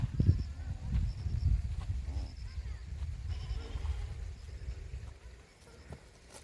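Goats of Bakarwal herders bleat on a high mountain pasture near Srinagar, scattered calls over a steady low rumble of wind and movement, with a voice speaking at times.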